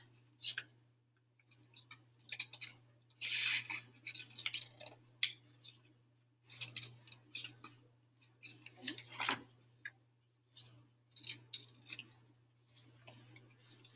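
Scissors snip through paper, cutting tabs off classroom foldables in a series of crisp, close cuts separated by short pauses, with a faint steady hum in the background and no talking.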